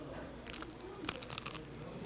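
Someone bites and chews into the crisp crust of a European-style oven-baked bread with a soft interior, giving close, dry crunching bursts over a quiet background.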